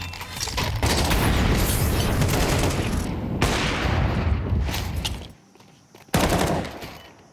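Counter-Strike match gunfire: dense, loud bursts of rifle shots and booms filling most of the stretch, breaking off briefly into near silence before one more sharp volley.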